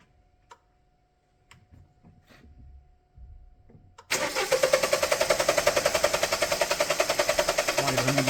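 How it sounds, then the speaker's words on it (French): A hard-starting car engine cranked after a few seconds of quiet with faint handling sounds, then a loud, rapid rhythmic churning of the starter turning the engine over without catching. "Tu peux lancer le véhicule?"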